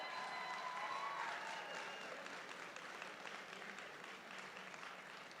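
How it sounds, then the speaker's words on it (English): An audience at a food industry event applauds a keynote chef, steady crowd clapping filling the room and fading slightly toward the end. "please clap, please clap"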